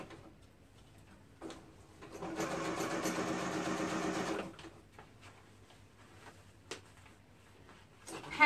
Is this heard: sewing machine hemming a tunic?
yes